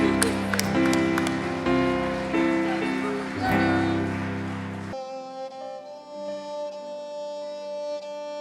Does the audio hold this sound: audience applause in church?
yes